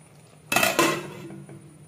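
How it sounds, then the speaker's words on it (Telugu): A metal lid clatters onto a pot of gongura chicken curry, giving a sharp clank and a second softer clink, close by in a quiet kitchen. "సో కొంచెం దగ్గర పడేయడానికి మూత పెట్టుకుందాం మళ్ళీ కొంచెం సేపు."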